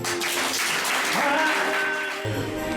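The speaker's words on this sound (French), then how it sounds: "Acclamons parce que c'est fait." A church congregation applauds together in a short burst of brisk, dense clapping that holds steady for a few seconds at moderate loudness in a resonant hall.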